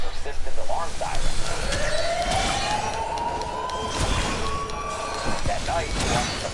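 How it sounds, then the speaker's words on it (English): Persistent alarm siren wailing in a Halloween film scene, a rising-and-falling tone held under loud overlapping voices shouting in a heated argument, with a dense, busy background throughout. "the only thing we, the audience, hear is the persistent alarm siren"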